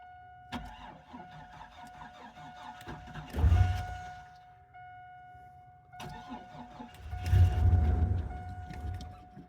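A cold car engine in a speed shop cranks in two separate starting attempts, each a loud, rough churning burst that fades without the engine catching, with quieter mechanical hum between them.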